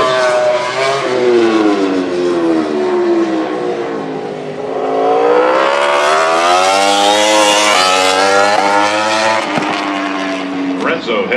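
A MotoGP racing motorcycle screams around the Austin track during qualifying at Turn 15, loud and close, its engine pitch dipping on deceleration then climbing steadily on acceleration, with commentary voices underneath.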